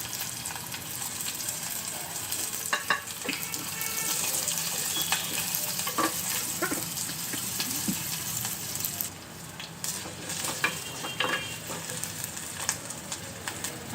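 Moong dal sizzles and fries in a little oil in a pan, a steady hiss with scattered crackles and occasional stirring clinks, fairly quiet and without talk.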